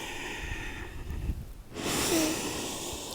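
A deep exhale during a prenatal yoga session, a soft breathy rush after a quieter stretch of breath, close and gentle with no talking over it.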